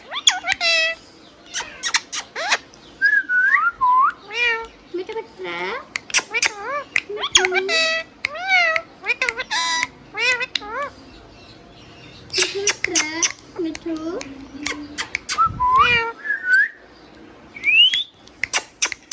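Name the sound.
tame green parrot whistling and calling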